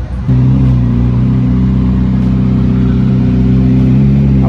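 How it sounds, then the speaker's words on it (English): A V8 turbo car at a Cars & Coffee meet revs up after a brief quiet start, then holds a loud, deep, steady engine drone close by for several seconds with no talk. "That's that damn V8 turbo, man. So he's showing off."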